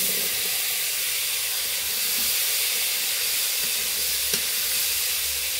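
Potatoes dropped into a hot pan give a steady, close frying sizzle, a constant bright hiss with no talking.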